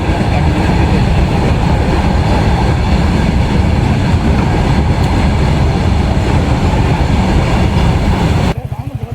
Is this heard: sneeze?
no